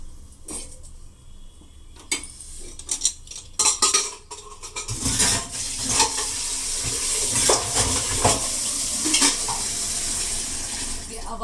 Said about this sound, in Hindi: आवाज जो आई आपको पता है किसकी आई है? पानी की।